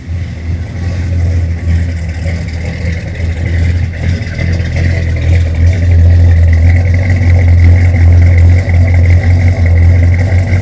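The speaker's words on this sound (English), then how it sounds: "it's a 455 Olds, and you've got to hear this motor" A 1971 Oldsmobile Cutlass SX with a Ram Air 455 V8 runs at a loud, steady idle, its deep rumble holding close and swelling slightly louder toward the end, with no talking over it.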